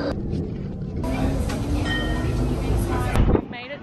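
Riding a Melbourne tram: a loud rolling rumble with rattling, a high tonal whine and brief squeals, ending in a clunk; voices are heard faintly under the running noise.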